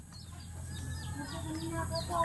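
Chicken clucks and short calls come and go against steady low outdoor rumble, with a voice briefly audible in the background.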